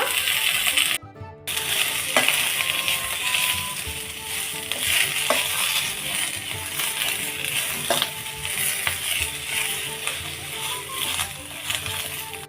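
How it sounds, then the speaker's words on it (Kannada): Dry coconut lightly roasted in a pan for mutton gravy, giving a steady dry sizzle and rustle with scattered scraping clicks of a spatula stirring, close and continuous with no talk. "ಈಗ ನಾನು ಅದೇ ಬಾಣಲಿಯಲ್ಲಿ ಒಣ ಕೊಬ್ಬರಿನ ಸ್ವಲ್ಪ ಲೈಟಾಗಿ ಹುರಿತಾ ಇದ್ದೀನಿ"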